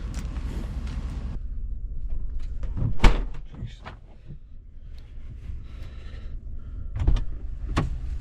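A vehicle's back door slams shut with a sharp loud thump, followed by a second fainter knock later, over a low engine or road rumble with no talking.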